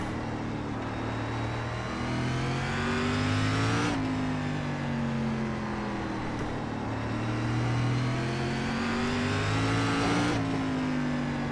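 A race car engine in the iRacing SRX series at Slinger, video game, drones steadily and climbs in pitch through repeated revving cycles, dropping sharply between them, loud and continuous with no talk.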